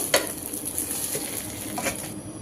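Semolina balls fry two at a time in a little oil, a soft steady sizzle with light clinks of a utensil against the pan, fairly quiet and close.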